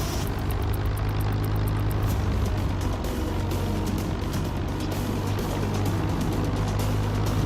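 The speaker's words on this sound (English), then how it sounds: "Let's kick it up to 1500 RPMs." An engine held at a steady 1500 RPM while warming up gives an even, continuous drone with a low harmonic hum. It stays close and loud, with no change in pitch.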